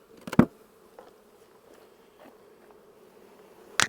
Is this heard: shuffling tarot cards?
no